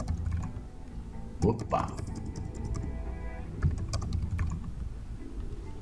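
Computer keyboard typing while working with text in Photoshop, with a few near key presses and a sharper Enter strike, and someone talking in Portuguese over the clicks.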